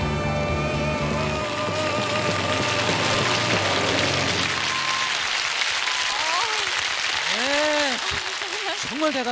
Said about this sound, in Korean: 아직까지도 저분들 환호하고 계신데